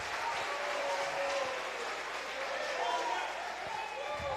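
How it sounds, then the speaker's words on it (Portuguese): A church congregation applauds during a worship service, a diffuse, somewhat distant wash of clapping mixed with voices and a sustained reverberant tone. "Aplauda Jesus de Nazaré."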